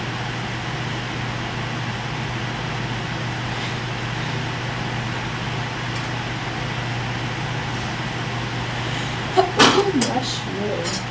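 A single sneeze bursts out near the end, following a long stretch of steady low hum and background noise.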